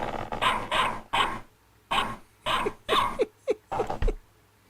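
A series of sharp dog barks, several loud close yaps in uneven bursts with a few shorter yips toward the end, coming from a digitally modeled dog sound rather than a live animal.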